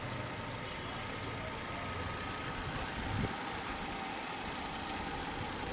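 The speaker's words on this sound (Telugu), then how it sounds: "ఇంజన్ స్టార్టింగ్లో ఉందండి." Hyundai i10 Sports 1.2 petrol engine idling under an open bonnet, a quiet, smooth, steady hum with faint hiss and no revving, almost silent throughout.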